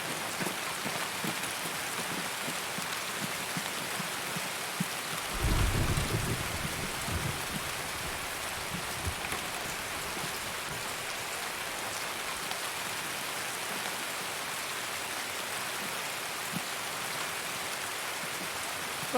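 Rain falls steadily in the shooter game Escape from Tarkov, a dense, even patter of drops on surfaces, with a brief low rumble of thunder early on and no talk.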